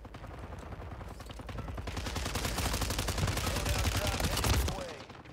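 Automatic gunfire in Warzone 3, apparently from a BAL 27 rifle, rattles off a long, rapid, steady burst that builds in loudness and then cuts off sharply, with no talk during it.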